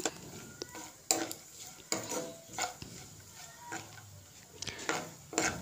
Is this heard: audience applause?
no